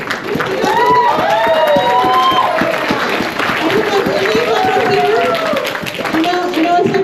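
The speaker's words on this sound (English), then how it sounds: "Yes, cheer for them." A convention crowd at a furry convention's opening ceremonies in the Mesa Convention Center cheers and applauds loudly and continuously, with whoops and shouts over steady clapping throughout.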